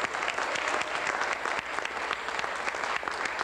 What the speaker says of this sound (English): So we give a big round of applause to Irene